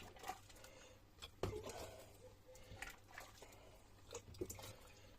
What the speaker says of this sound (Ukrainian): Беремо стерилізовану банку і Наливаємо